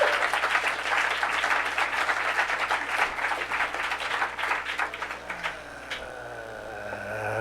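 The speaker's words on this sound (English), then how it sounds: "Give him a big round of applause." Sustained applause from a comedy club audience for a stand-up comedian, dense clapping steady and loud throughout, thinning slightly near the end.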